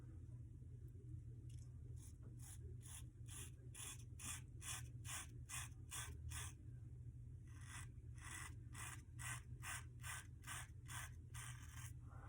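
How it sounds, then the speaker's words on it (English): Safety razor strokes from a 1912 Gem Junior shaving stubble, a close series of short rhythmic scraping rasps repeating over a steady low background hum, with a brief pause partway through. "I'm going to just do it like an old traditional safety razor"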